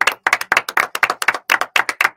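Loud, close applause from a live audience at a Spanish-language music show, sharp overlapping claps in quick bursts with brief gaps between them, no talking.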